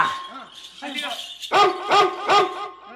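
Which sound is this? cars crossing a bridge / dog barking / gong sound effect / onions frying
dog barking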